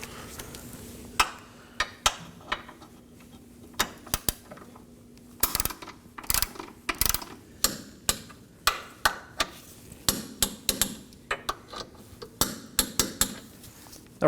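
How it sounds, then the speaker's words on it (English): A torque wrench tightens bolts to 22 foot-pounds on the lower active grille shutter of a 2018-2024 Chevrolet Equinox, with a steady series of sharp, close ratchet clicks in short bursts and brief pauses. "Now we're going to go ahead and torque these down to 22 foot-pounds."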